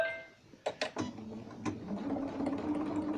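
A sewing machine runs stitches back and forth along fabric while a round cushion form is made from a square one, with short mechanical bursts and then a steady hum.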